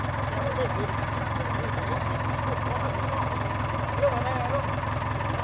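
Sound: three-wheeler (samlor) engine running

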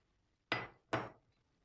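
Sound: cracking three eggs into a bowl

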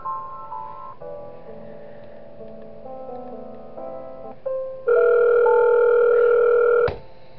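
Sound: phone call ringing in Five Nights at Wario's video game

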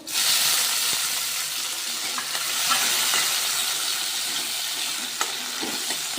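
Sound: tomatoes frying and sizzling in a pan

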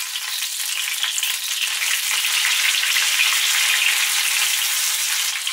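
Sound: milanesas frying in oil in a pan

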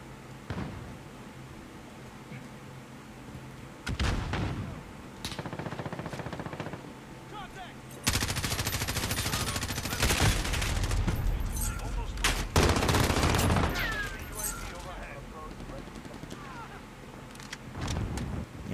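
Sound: gunfire in Call of Duty Modern Warfare multiplayer video game

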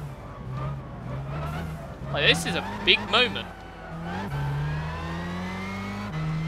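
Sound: race cars drifting in video game Gran Turismo 6

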